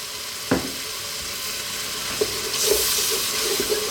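Red wine, about half a bottle, poured into a hot pan of braising lamb for bourguignon over medium heat, giving a steady hiss of sizzling that swells near the end, with a few faint utensil knocks.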